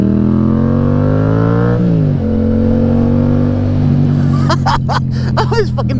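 A 2021 Yamaha MT07 motorcycle engine revving loudly up close, pitch rising and then dropping, then idling and rumbling as a voice speaks briefly over it toward the end.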